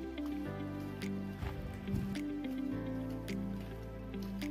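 Hands squish and knead chicken pieces coated in garam masala and chili powder, giving wet, sticky squelches up close under a steady background hum.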